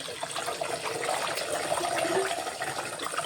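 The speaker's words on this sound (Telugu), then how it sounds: "ఆయిల్ వేడెక్కింది. ఇప్పుడు ఇందులో మనము ఎగ్ వేసుకుందాం." Egg dropped into hot oil in a pan while making egg noodles, giving a steady broadband hiss and sizzle that holds at an even level from start to finish, with no talking.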